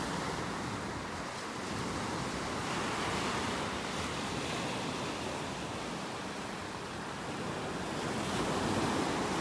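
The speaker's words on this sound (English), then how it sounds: "Back down to the beach here." Ocean surf washes steadily onto a beach in North Naples, Florida, a broad continuous roar that swells and eases slightly, mixed with wind rumble on the microphone, with no voices.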